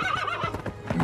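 A horse whinnies loudly and close by, a rising and falling neigh with shaky harmonics, and hoof clip-clops sound underneath.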